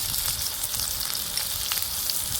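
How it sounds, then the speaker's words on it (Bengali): Potatoes fry in oil in a wok with turmeric and salt, a continuous close crackling sizzle with small stirring bursts. "কড়াই তেল দিয়ে নিচ্ছি আলু দিয়ে নিচ্ছি সামান্য হলুদ"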